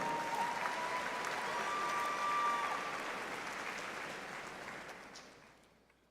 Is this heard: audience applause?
yes